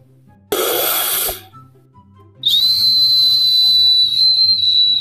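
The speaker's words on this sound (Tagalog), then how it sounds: "tignan nyo ang sipol ko, ang lakas." A brief burst of breathy air, a pause, then a loud, sustained high-pitched whistle held steadily for a few seconds, very close.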